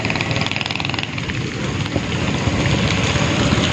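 Heavy rain pours down in a village, a dense, continuous loud hiss of water with no break, and a low rumble underneath.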